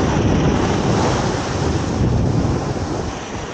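Sea waves surging loudly along the shore on a motorcycle camping fishing trip, a dense continuous roar of surf mixed with heavy wind buffeting the microphone, easing slightly toward the end.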